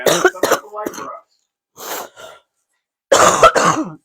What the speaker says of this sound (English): You guys make me laugh and I cough into the microphone.